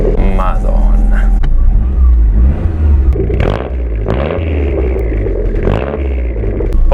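A Lancia Delta Integrale Evo 2 engine rumbling and revving while driving, heard close from inside the car with deep low growl and some clattering, while a person talks over it.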